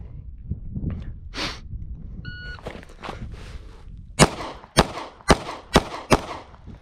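A Glock 43x pistol fires a string of five sharp, evenly spaced gunshots at an outdoor range, each crack loud and distinct, preceded by quieter handling noise and shuffling.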